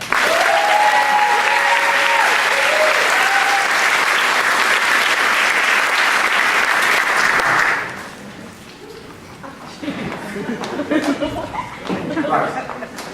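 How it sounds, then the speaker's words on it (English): A theatre audience gives a loud, dense round of applause for the orchestra at a stage performance, steady for about eight seconds before abruptly thinning into scattered claps, murmurs and light laughter. "a warm round of applause, please, for our fully trained orchestra"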